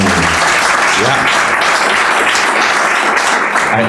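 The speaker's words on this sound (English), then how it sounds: "I hope you're applauding for yourselves" Loud, continuous audience applause fills a community business event in York, many hands clapping densely throughout with a few voices talking underneath.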